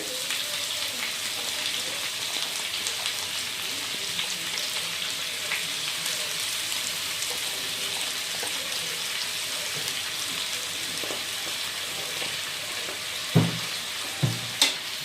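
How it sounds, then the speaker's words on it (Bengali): Thin-sliced onions frying in a pan, giving a steady, close sizzle throughout, with a few sharp knocks of a utensil near the end. "আর এখন পেঁয়াজগুলোকে আমরা হালকা ভেজে নেব।"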